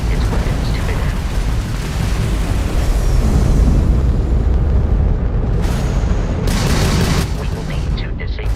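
Crimson Fleet ship weapons fire during a space battle in Starfield, a dense continuous roar of blasts and rumbling explosions, loud and close, with voices talking over it.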